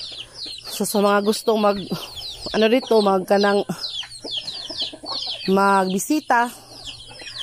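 Chickens clucking and squawking loudly up close in repeated bursts while being fed in a backyard, with a person speaking briefly among them.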